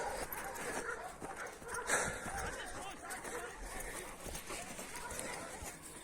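Dogs whimper and yip in a busy outdoor scene on a farm, with people talking over them throughout.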